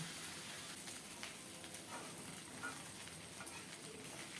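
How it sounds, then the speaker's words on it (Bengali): Fish heads fry with ginger in a pan, giving a faint, steady hiss and crackle of hot oil with a few soft stirring scrapes. "আদাটা একটু মাছের মাথার সাথে ভেজে নেব"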